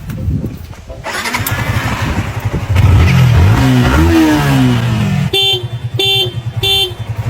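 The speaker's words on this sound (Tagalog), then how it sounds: "Ayusin mo nga tong motor, Kalbo." A motorcycle engine cranks, catches and revs up loudly, rising in pitch before settling into a steady idle, with a few short beeps near the end.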